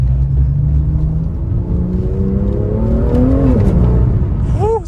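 BMW M2 accelerating hard with wheelspin, a loud close engine roar rising in pitch under constant tire noise, ending in a sharp chirp as the revs climb, no talking.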